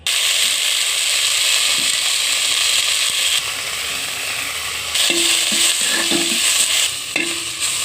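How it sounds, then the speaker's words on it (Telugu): Tamarind leaves fry in a hot pan with a steady, loud sizzle, scraped and stirred by a spoon in brief clinking strokes toward the end. "చెంచీగురు ఇది కూడా వేయించేసుకుందాం ఇప్పుడు"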